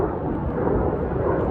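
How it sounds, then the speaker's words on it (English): Fighter jets flying overhead near the Tucson air base, a loud, steady low roar that fills the whole short stretch without a break and with no talk over it. "You can hear the fighter jets flying over the top of me right now."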